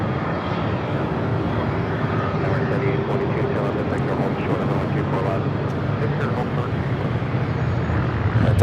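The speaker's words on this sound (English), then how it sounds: "At the flight to JFK, now rolling down 24 left." An airliner bound for JFK rolls down runway 24 left at LAX, a loud, steady broadband engine roar filling the whole stretch with no break, while a voice talks over it.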